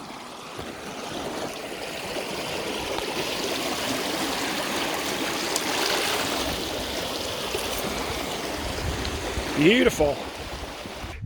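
A mountain stream in Spain flows in a steady, close wash of rushing and trickling water that carries on throughout, with a single brief spoken word near the end.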